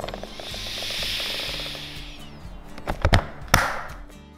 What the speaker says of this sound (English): That's the sound of air being expelled through the pressure release valve